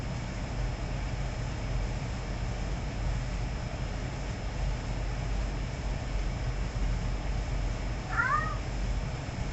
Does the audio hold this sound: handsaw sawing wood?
no